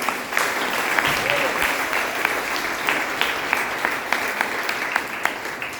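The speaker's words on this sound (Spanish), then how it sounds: "Aplauda la presencia de Dios." A church congregation applauds together in a steady, loud wash of clapping that fills the space, with scattered sharper claps standing out and no break throughout.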